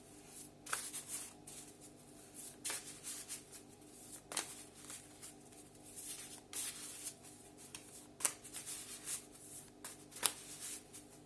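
Tarot cards are shuffled close by, giving soft repeated riffling and rubbing bursts with sharper flicks at irregular intervals, quiet and alone.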